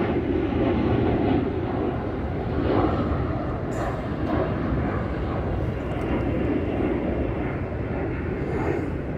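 An airplane flies overhead, a loud, steady broadband roar that fills the whole stretch with little change, with no voices.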